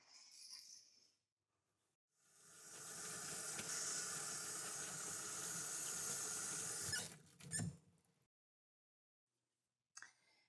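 A nurse washes hands at a sink, with tap water running in a steady hiss for about five seconds, then a brief splash, with soft handling noises before and after.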